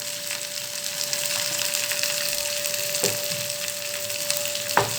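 Dried red chillies fry in hot coconut oil, giving a continuous bright sizzle and crackle at close range, with a few sharper pops near the end and no voices.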